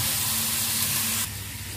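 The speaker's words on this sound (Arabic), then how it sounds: "الارنب بتاعنا اديناله تشويحه مع التوابل بتاعتنا" Pieces of rabbit meat sizzle loudly as they are sautéed with spices in a pan, a steady, close hiss that drops slightly in level near the end.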